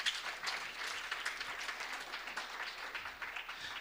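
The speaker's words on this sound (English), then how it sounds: "deserves a round of applause" Audience at a university management and law faculty research day gives a round of applause, fairly faint but clear scattered hand claps in an indoor hall, steady throughout.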